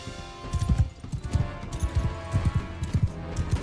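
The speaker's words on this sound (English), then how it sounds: "Horse." Horse hooves clip-clop in a quick, steady rhythm, close and fairly loud, in the Mount & Blade II Bannerlord video game, with no talk over them.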